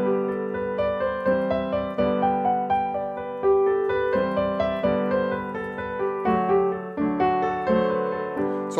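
Piano plays an even, unsyncopated melody with chords landing squarely on the beat, a steady rhythm of clear notes at moderate volume with no voices.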